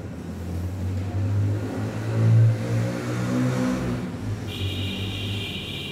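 Motorbike engine revving, a mid-pitched engine drone that swells and rises to a louder peak, then settles back, with a steady high whine entering near the end; no one speaks.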